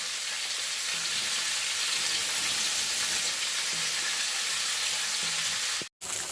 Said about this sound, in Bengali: আর এদিকে এই যে বেগুন ভাজা হচ্ছে